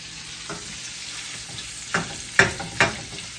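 Seasoned pork fries in a pan, a steady soft sizzle with a few scraping stirs near the end, close and alone.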